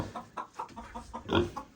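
Soft, irregular clucking from a few bantam chickens nearby, short bursts repeating with a louder cluster near the end.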